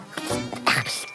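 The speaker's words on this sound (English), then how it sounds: "So many mosquitoes!" Cartoon mosquitoes buzz in a kids' animation, a thin, whining insect drone that wavers in pitch over about a second, with no speech.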